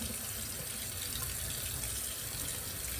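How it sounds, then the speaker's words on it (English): Very hot water pours steadily from a tap over the rim of a jar lid, a continuous close splashing rush with no break. "You just run it under the water. You guys can see. And I have really hot water here."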